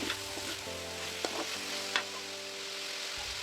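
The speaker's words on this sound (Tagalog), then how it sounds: "Igisa lang natin siya hanggang lumambot yung sitaw" String beans (sitaw) for Bicol Express sauté in a pan with a continuous sizzle, a steady hum underneath and occasional utensil clinks and stirring scrapes, heard up close without speech.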